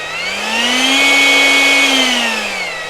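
A GROWORT cordless electric leaf blower revs up to turbo, its motor whine rising to a loud, steady high-pitched drone, holding briefly, then easing back down, close by.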